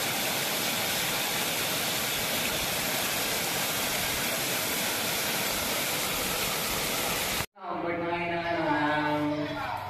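Strong overflowing irrigation water rushes loudly and steadily for most of the stretch, a dense continuous roar, before cutting off abruptly near the end as someone speaks.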